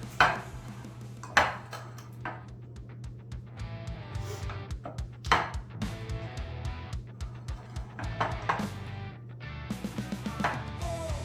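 A utensil scrapes and taps against a pan while cream cheese mixture for pizza dip is spread evenly, with irregular clinks and knocks over a steady low kitchen hum.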